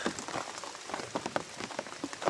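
Steady rain falls on a surface, giving soft continuous patter with scattered close drops. It is fairly quiet and there is no talking.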